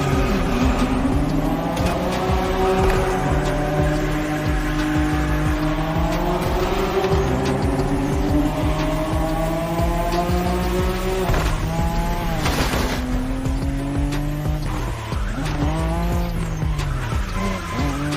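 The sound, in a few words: car drifting with tire squeal in The Crew Motorfest video game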